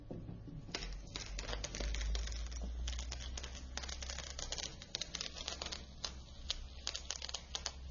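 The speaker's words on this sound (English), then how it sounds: "just slowly peel back your paper to make sure that you don't pull up any of your vinyl" Vinyl lettering transfer paper peeled slowly back off a wall, a dense run of close crinkling and soft tearing crackles with a low hum beneath, steady and near throughout.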